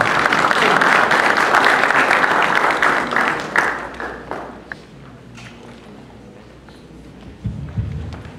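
An audience at a presentation gives strong applause that swells at the start and then thins out, with a few scattered claps and light thuds trailing off as the room quiets.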